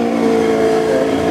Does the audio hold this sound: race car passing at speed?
yes